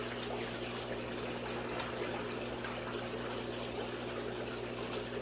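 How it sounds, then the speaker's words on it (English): Running water pours over ceramic bead biological media from a neglected aquarium canister filter, a steady close broadband wash with a faint low hum beneath, continuous and without talk. "So let me rinse it off real quick."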